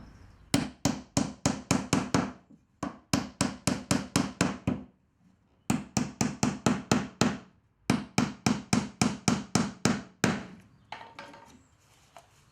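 Hammer driving thin 40mm lost head nails into pallet wood, sharp close blows in rapid runs of six to ten strikes separated by short pauses, finishing with lighter scattered taps.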